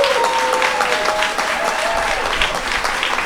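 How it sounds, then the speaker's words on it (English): An audience applauds after an artist talk on dance and emerging technologies, a steady, dense round of clapping from many hands filling the room without speech. "Please give a round of applause, Memo and Katie."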